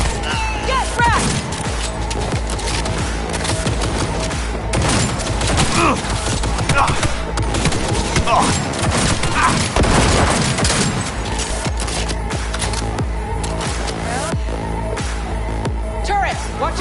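Turret gunfire rattles in Cyberpunk 2077, sustained loud bursts and impacts that run continuously while a player talks over the shooting.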